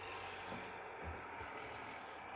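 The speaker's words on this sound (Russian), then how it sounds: "Слышите, трактор курсирует и днем, и ночью разгребает дороги." A tractor clears snow from the roads during a blizzard, its engine a faint, steady, low rumble that sounds distant and continuous with no other sounds.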